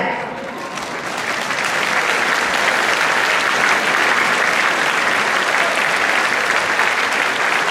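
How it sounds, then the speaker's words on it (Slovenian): A concert audience applauds the performers at a school centre, steady dense clapping that stays loud and continuous throughout. "Zato predlagam, da vsem nastopajočim ploskate, dokler ne začnejo špilati."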